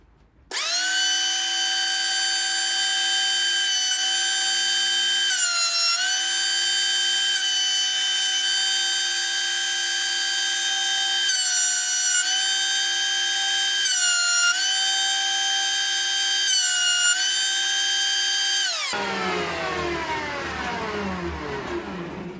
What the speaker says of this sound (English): So rightio, onto the planer.